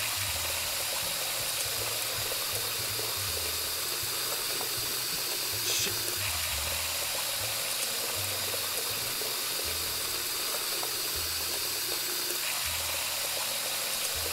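Steady tap water runs in a video game washing scene, a continuous hissing stream of hand washing that stays even and fairly faint throughout, with a few soft knocks and no voices.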